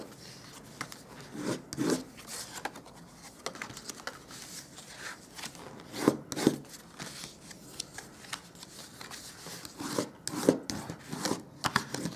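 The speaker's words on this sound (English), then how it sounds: "We'll just burnish all of the score lines." Score lines on a paper baker's box are burnished by hand, giving soft intermittent rubbing and scraping strokes with a few sharper taps, close and quiet, without speech.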